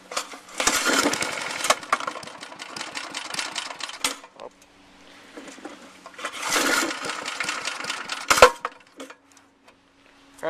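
A small pull-start engine from a Walmart kit, choke stuck on, starts up with two loud bursts of running separated by a quieter lull, then a sharp final burst; buzzy and close.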